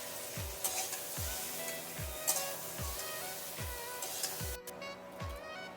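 Ridge gourd slices fry in oil in a wok with a steady sizzle, while a spatula scrapes and stirs in a regular rhythm of roughly one stroke every three-quarters of a second.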